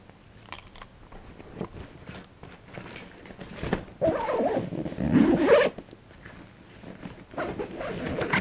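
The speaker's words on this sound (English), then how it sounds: "Just quickly zip this up." A GoPro bag is zipped shut in a series of close, rasping zipper pulls, some short and some drawn out, with a few louder strokes near the middle and end.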